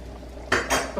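A metal spoon clinks and scrapes against a pot while bacon pieces go into dairy-free corn chowder, two short, close scraping bursts within a second.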